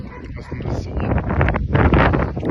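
Gusty wind buffets the microphone with a low, steady roar that swells louder toward the end, carried outdoors with no clear talk.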